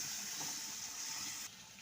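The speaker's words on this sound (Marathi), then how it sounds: "आता आपण पाणी टाकून घेऊ थोडं थोडं पाणी टाकून घ्यायचं" Water poured into a pan of masala frying in oil for a vegetable curry, a steady hissing, gushing wash that holds close and continuous before dropping slightly softer near the end.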